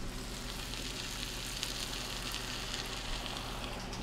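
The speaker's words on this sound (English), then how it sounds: "we return the pork shoulder to the pan" Pork shoulder sizzles steadily in a pan with caramelized yellow onions, a dense continuous frying hiss at moderate level, close by with no voices.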